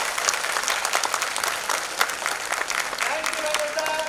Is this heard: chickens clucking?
no